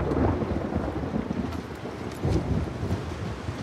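Storm ambience in the video game The Last of Us Part II: a continuous low rumble of thunder over wind and rain, swelling faintly twice, with no voices.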